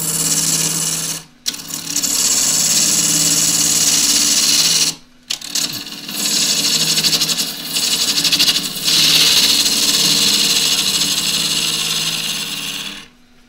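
Wood lathe spinning an eggcup blank as a half inch spindle gouge cuts face work, producing a loud, steady scraping hiss that stops briefly twice and then resumes, with no talking.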